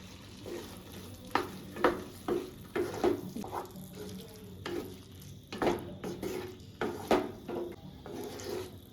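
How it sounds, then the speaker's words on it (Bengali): Fried mixed vegetables stirred and tossed into spice paste in a wok, with repeated scraping strokes of a spatula over a steady soft sizzle, close and moderately loud, no talking. "এবার সবজিগুলোকে মশলার মধ্যে দিয়ে ভালো করে একটু কষাবো।"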